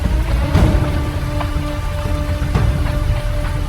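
Heavy, continuous rain pours down on a dark night in a horror cartoon, a dense unbroken hiss with scattered louder drops and faint low rumbles beneath.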